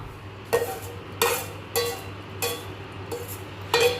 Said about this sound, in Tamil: இப்போ கடைசியாக இதை போட்டு கிளறி கொஞ்ச நேரம் கிண்டிகிட்டே இருந்தோம்னா மேட் ஓவர்